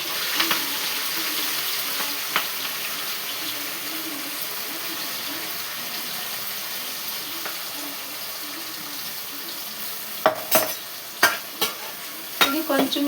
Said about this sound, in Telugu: ఇప్పుడు మనం తయారు చేసుకున్న మసాలా వేసేసుకుందాం